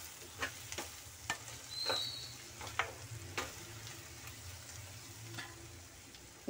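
Fried gram flour stirred into a bitter gourd curry in a pan: a low steady sizzle with a dozen or so sharp spoon scrapes and taps at irregular intervals, close but fairly quiet, no voices.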